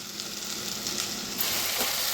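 Green chili and garlic paste sizzling in hot oil after the onions are fried red, a steady, close crackling hiss that swells slightly partway through, with no voices.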